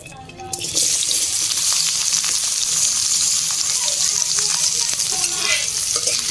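Cut amla hits hot mustard oil with a sudden bright sizzle that holds as a dense, steady crackle close by.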